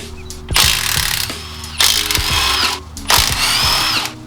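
Three bursts of a power tool zapping off 14 mm compressor bolts during a 1JZ-swapped S13 build. Each run lasts about a second, has a sharp start, and comes with ratcheting mechanical clatter. There is no talking.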